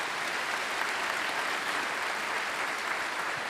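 Sustained applause from a large audience at the North Idaho College 2025 commencement, a dense, even wash of clapping that holds steady throughout.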